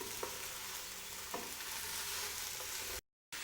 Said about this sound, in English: now that we've stirred and cooked the carrots, the potatoes, and the corn for a few minutes